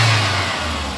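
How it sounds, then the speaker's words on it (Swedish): A car engine with a viscous fan clutch that isn't engaging revs loud and close, a steady mid-low drone that eases slightly by the end, with no talking. "Det kvittar hur mycket jag varvar motorn."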